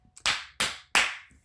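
Three loud, sharp hand claps, evenly spaced about a third of a second apart, each ringing briefly in a room with no talking.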